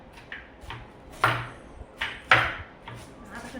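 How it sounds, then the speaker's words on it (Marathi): A knife chops green chillies finely on a board with a handful of separate, sharp taps at an uneven pace, close and clear with no talking. "पण अशा पद्धतीने आपण मिरच्या सुद्धा बारीक चिरून घेऊया"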